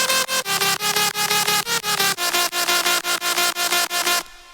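Drum and bass synth lead group with reverb and sidechain ducking, bright stabbed chords pulsing in a fast, steady pumping rhythm, loud and dense, shifting pitch midway and cutting off at the end.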